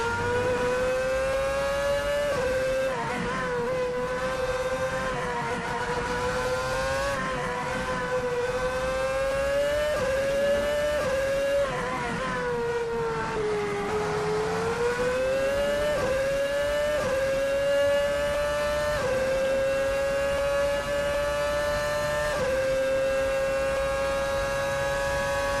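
High-pitched, screaming V8 engine of a 2007 Ferrari F2007 Formula 1 car in the racing game Assetto Corsa, held at high revs with repeated gear shifts, brief dips and climbs, continuous and close throughout.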